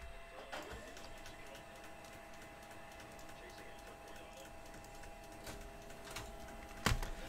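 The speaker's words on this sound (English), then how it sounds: "Printing." A printer prints with soft mechanical whirring and scattered ticks and clicks, ending in a sharper clack. Faint voices talk underneath.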